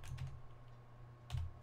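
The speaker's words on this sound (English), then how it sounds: "I'm typing it right now." Typing on a computer keyboard while setting up a baseball video game, with soft clustered key taps near the start and again near the end over a low steady hum, faint and close, with no talking.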